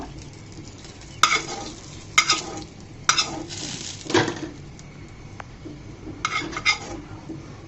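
Black cumin seeds are stirred in a hot pan for helencha greens bhorta: a handful of sharp spatula scrapes and clacks at irregular intervals over a low, steady sizzle, close and alone with no voices.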